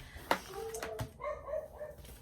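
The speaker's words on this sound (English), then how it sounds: "Please excuse my dogs in the background." Dogs bark a few times in the background, short sharp yaps and a brief whimper in the middle distance with some small rustling nearby.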